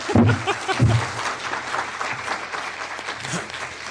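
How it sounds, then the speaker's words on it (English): A short burst of audience clapping at a talk, strongest at first then thinning out, with a voice briefly heard near the start. "He wants to applaud. He thinks that's an applause line."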